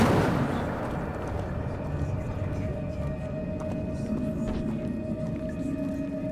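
Incendio fire spell cast in Hogwarts Legacy, a sharp onset at the start settling into a steady roaring, crackling burn with a sustained tone, continuing loud for several seconds.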